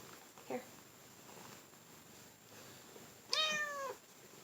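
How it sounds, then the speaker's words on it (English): A purring cat lets out one short, close meow after a faint earlier sound, in a quiet room with low background hiss. "She's talking ugly, but she's purring like crazy."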